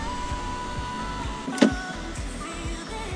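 A BMW E36 M3 electric power window closes with a continuous motor whine and a low mechanical drone. A brief bump partway through comes as the glass travels up.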